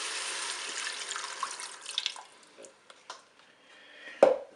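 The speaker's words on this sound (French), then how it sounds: "verser mon bouillon." Broth poured into a Cookeo multicooker for a pork roast, a fairly quiet liquid trickle that thins into scattered drips, ending with one sharp, brief splash or knock.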